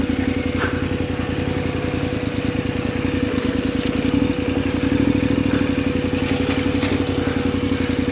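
Big motorcycle being ridden, its engine giving a steady loud throbbing drone with a constant pulsing rhythm and some wind noise, close throughout.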